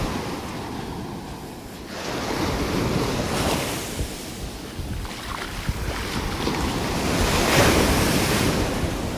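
Ocean surf washes steadily onto a beach at Delnor-Wiggins Pass State Park in North Naples, Florida, with rolling waves swelling and breaking nearby under continuous gusty wind buffeting the microphone.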